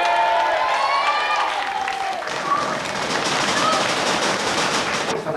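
An audience applauds at a Chiro youth camp gathering, with dense, steady clapping throughout and voices mixed into the crowd noise.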